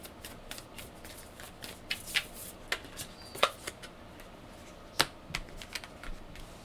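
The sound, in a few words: shuffling oracle and tarot cards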